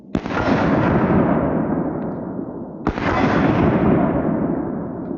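Two loud pistol shots fired with cheap ammunition at distant outdoor targets, each a sharp crack trailed by a long rolling echo, spaced about three seconds apart.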